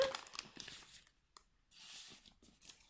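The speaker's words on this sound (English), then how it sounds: "sorry for the crinkling, I believed I had taken all of these ones out, but I didn't" Plastic packaging around a cross-stitch pattern crinkles and rustles up close in a few short, soft bursts separated by brief pauses.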